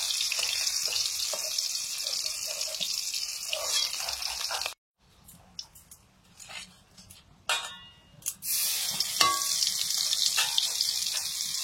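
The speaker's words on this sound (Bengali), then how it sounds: "হালকা ভেজে তুলে নিচ্ছি" Fish frying in oil, a loud continuous sizzle, then a sudden drop to near silence with scattered clinks and splashes before the hissing fry returns strongly.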